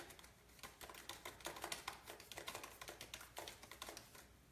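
Computer keyboard keys clatter in fast, irregular bursts of clicks late at night in a quiet house, close and fairly soft, with no voices.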